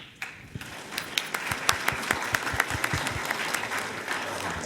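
An audience at a 2014 business conference applauds, with distinct individual claps popping out of a moderate, steady round of clapping that runs throughout.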